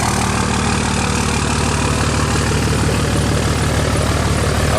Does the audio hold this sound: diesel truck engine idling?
yes